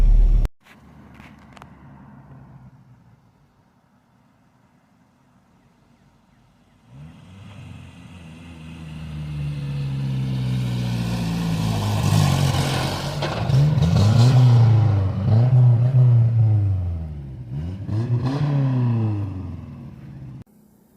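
An Isuzu Trooper 4x4 engine idles quietly, then revs up in several rising and falling swells, the loudest in the middle, with a brief clatter at the very start.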